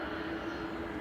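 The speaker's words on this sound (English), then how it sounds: "you can probably hear Aer Lingus noisy prop making its way out" A noisy Aer Lingus propeller airliner taxis out at Manchester Airport, a steady droning engine tone with a hum running continuously through the short stretch, moderately loud and distant, with no talk.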